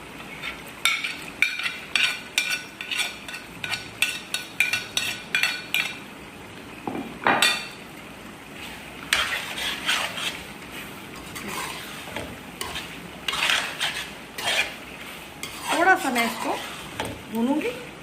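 Fried vegetables stirred into chicken karahi in a pan, with scraping spoon strokes, clinks against the metal and a soft sizzle, coming in uneven bursts close up, with pauses between.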